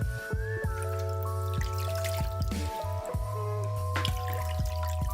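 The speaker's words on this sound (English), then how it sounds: "fill it with water, about I would say 1/2 inch up" Water pours and trickles into a baking pan for a water bath under a vegan cheesecake, giving steady dribbling and dripping with a few soft knocks and clinks, close and alone, with no talk.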